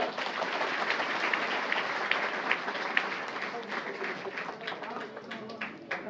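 Audience clapping at a village retirement ceremony, a dense, steady patter of many hands applauding at moderate distance for several seconds, with faint voices mixed in.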